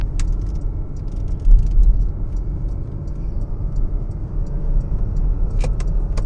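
Interior of a Porsche Macan S Diesel pulling around a roundabout in sport mode, a loud, close low engine drone building steadily, with light ticking clicks from the cabin.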